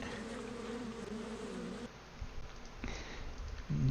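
Rocket bees in a video game give off a steady, close insect-like buzzing drone that shifts and dips partway through, heard alone without talk.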